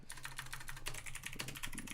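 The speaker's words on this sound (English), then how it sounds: "I'm typing this all out." Quiet, rapid clatter of computer keyboard keys being typed during a morning coding session, a dense run of close keystrokes with no talk.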